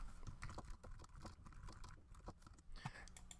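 Fingers type on a computer keyboard, a close, quiet patter of irregular keystrokes clicking steadily throughout.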